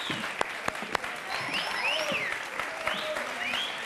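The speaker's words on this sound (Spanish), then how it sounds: "Un aplauso para ella." Audience applause for actress Marlene Favela, a dense steady clapping from a crowd with a few sharp near claps and whistles over it, lasting throughout.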